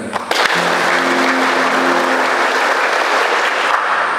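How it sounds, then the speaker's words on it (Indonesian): Participants clap loudly at a closing ceremony for civil servant candidate basic training, a dense burst of applause with a brief sustained tone early on, then steady clapping. "khusus peserta coba tepuk tangan lagi"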